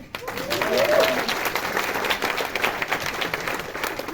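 Applause from an audience at the opening of a music workshop, a dense steady patter of clapping that carries on throughout, with a brief voice early on.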